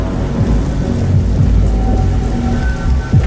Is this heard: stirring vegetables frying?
no